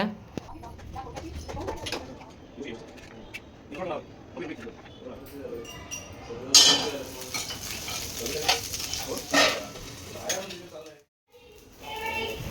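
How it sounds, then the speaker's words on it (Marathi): Chillies frying in oil in a home kitchen, a low sizzle with scattered stirring and utensil clinks, mostly under someone talking. "आता त्या मिरच्या पण मला तळून घ्यायच्या होत्या."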